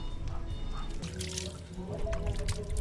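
Water is poured out for washing hands, a soft trickling and splashing stream close to the listener, rising slightly toward the end, with faint background murmur.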